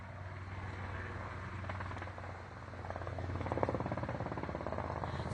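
A helicopter flies overhead, its rotor producing a faint, steady low thrum that swells slightly louder as it passes, with no other sounds around it.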